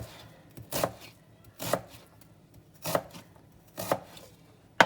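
Onion being diced with a knife on a cutting board, five crisp, evenly spaced chops close up with quiet pauses between them.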